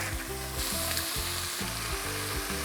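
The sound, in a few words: vegetables frying in hot oil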